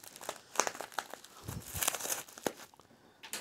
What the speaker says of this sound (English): let's cut this with a razor blade